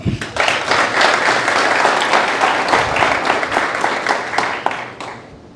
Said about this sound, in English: Give him one more applause